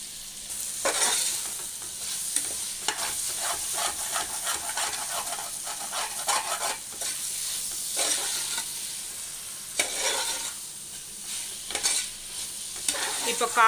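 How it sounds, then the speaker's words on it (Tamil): Chopped vegetables such as finely cut beans sizzle in a pan for vegetable biryani, with repeated scraping stirs rising over a steady frying hiss, close and without talk. "இப்போ காய்கறி எல்லாமே நல்லா வதங்கணும்."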